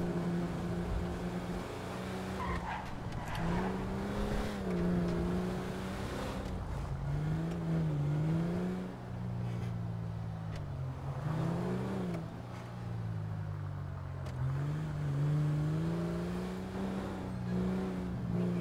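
Car in GTA 5 Online driving continuously, its engine droning and rising and falling in pitch with repeated revving and gear changes, steady and fairly loud throughout.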